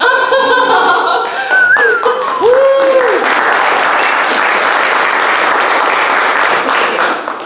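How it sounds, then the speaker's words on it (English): At the 2021 Libertarian Party of Georgia state convention, a few chuckles and tonal sounds give way to a loud, full burst of audience applause that keeps going to the end. "So really applause to yourselves"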